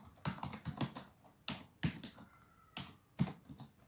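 Irregular bursts of clicky keystrokes on a computer keyboard while typing a command in CMD, close and quiet, in short clusters with brief pauses.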